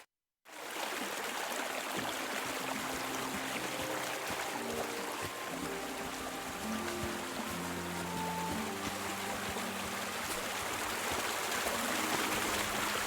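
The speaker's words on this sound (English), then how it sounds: "Usually there's only a small trickle running through here." Water runs steadily through a flooded cellar passage in Kingdom Come: Deliverance 2, a continuous rushing trickle swelled into a loud stream that fills the space from start to finish after a brief silent opening.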